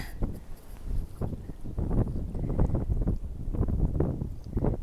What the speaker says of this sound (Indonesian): Tidak tahu kan bisa lihat atau tidak, tapi ini anginnya.